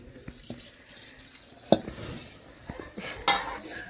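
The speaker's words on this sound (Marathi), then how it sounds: "थोडं आपण त्याच्यात पाणी ॲड करूया." Water is poured into chicken cooking in a clay pot, with a splash and clinks of a utensil against the pot amid soft stirring and dripping sounds, close and fairly quiet, with no talking.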